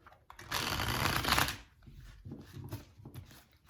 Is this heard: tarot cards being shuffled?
yes